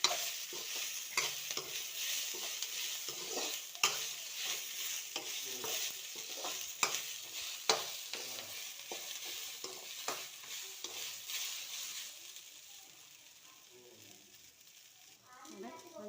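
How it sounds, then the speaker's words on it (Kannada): Okra is stirred as it fries in a pan, with repeated close scrapes and clacks of the spoon over a constant sizzle that grows quieter toward the end, and no talking. "ಇದಕ್ಕೆ ಈ ಬೆಂಡೆಕಾಯಿನ ಇದನ್ನು ನೋಡಿ ಚೆನ್ನಾಗಿ ಮಿಕ್ಸ್ ಮಾಡಬೇಕು"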